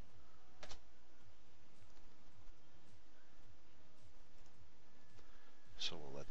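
Faint computer mouse clicks, a right-click and a couple of quick presses, sound close and sparse over a quiet room hum with a low voice.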